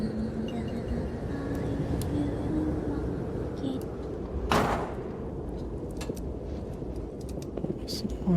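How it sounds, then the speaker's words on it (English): A door slams in the Layers of Fear 2 horror video game with a single sharp bang midway, standing out from a quiet ambient bed with faint murmuring voices. "Okay, the door slammed."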